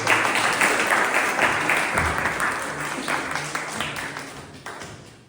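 A room of Toastmasters club members applauds the incoming club president, dense steady clapping that holds throughout and tapers slightly toward the end, with a faint voice underneath.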